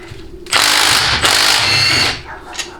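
Two long bursts of ratcheting from a hand ratchet turning a 1/2-inch socket on a 1967-1969 Ford C4 automatic transmission during teardown, close and loud, the second run ending in a brief click.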